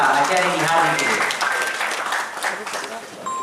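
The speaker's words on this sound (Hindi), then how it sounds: "जोरदार तालियां आचार्य निहार जी के लिए" Audience at an award function breaking into sustained applause, a dense steady wash of many hands clapping that eases slightly toward the end.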